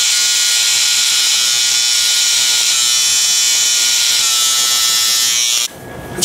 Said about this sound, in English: Let's try some of the other clippers.